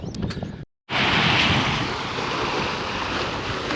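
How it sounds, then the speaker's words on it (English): Strong wind roars and buffets the microphone beside a pier, with a broad steady rush of waves and gusts after a brief dropout, no voices. "The wind is still blowing fairly strongly."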